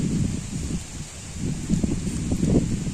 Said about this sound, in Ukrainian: Вітер такий дощовий.